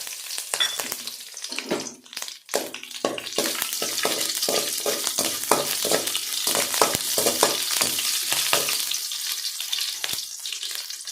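Tempering spices and chopped green chili crackle and sizzle in hot oil, with rapid popping bursts and stirring scrapes, loud and close, no talking.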